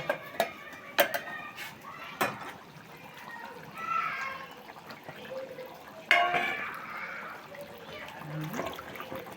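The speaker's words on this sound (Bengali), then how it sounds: "এখন আমি আলুকে দিয়ে দিলাম।" Potato pieces go into a pot of beef curry with scattered metal clanks, knocks and wet sloshing, fairly close and moderate in level, while a voice talks over the cooking.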